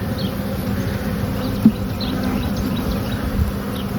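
Honey bees from an overwintered queen's colony buzzing inside an open hive in early March, a dense continuous drone close by with a brief tap partway through, no speech.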